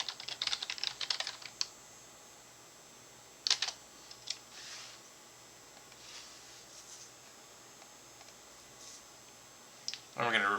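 Fingers type a wallet password on a computer keyboard in short clustered bursts of key clicks, with scattered single taps and long quiet gaps between, close and clear.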